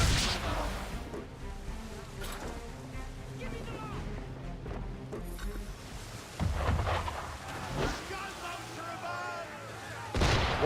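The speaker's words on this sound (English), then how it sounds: "Why is he shooting at us?" Enemy ship firing cannons at sea in a video game, several heavy booming shots with rumbling tails over a busy background of wind, creaking and ambience, with voices speaking briefly between blasts.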